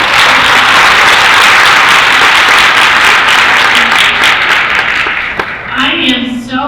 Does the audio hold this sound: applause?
yes